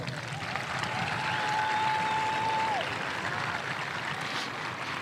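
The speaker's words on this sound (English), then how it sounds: "Let's give that Rangers faculty and staff an extra round of applause" A high school gym crowd at a Veterans Day celebration claps for faculty and staff, a soft, even wash of applause from a distance with no talking over it.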